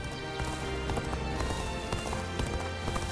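Rapid, rhythmic hoofbeats of a galloping horse in the video game Dynasty Warriors: Origins, clattering steadily and close under a bed of game music.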